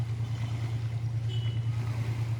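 A passenger launch pulls away from the Nurpur ghat on the 7:50 run to Geonkhali, its engine a steady, loud low throb with a continuous drone and faint water wash, no talk over it.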